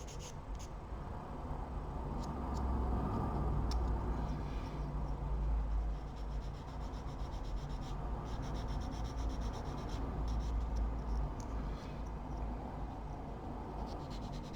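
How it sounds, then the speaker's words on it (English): A modeler works an emery stick across cut-off points on Junkers D1 model aircraft parts, producing a steady, close scratchy rubbing that continues throughout with slight swells in intensity, and nobody speaks. "because these are quick going over with the emery stick"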